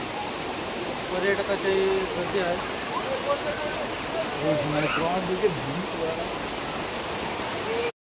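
Amboli waterfall in the Amboli ghat roars as a constant broadband rush of falling water, loud and steady throughout, with someone speaking over it and tourist crowd voices faintly underneath.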